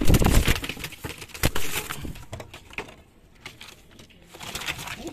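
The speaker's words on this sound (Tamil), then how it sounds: "இது உள்ள பார்த்தீங்கன்னா ஒரு ரெண்டு புறா வந்து அடைச்சி வச்சுருக்கேன்" Two pigeons shut inside a backyard coop coo softly and shuffle about, with scattered close knocks and rustles, fading quieter midway before picking up again.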